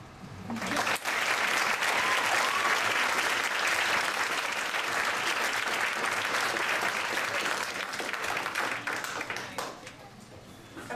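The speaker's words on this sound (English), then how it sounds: "go ahead and have another round of applause" A crowd at a Blue Room poetry night claps warmly for a performer, the dense applause rising sharply, sustaining evenly for most of ten seconds, then thinning out at the close.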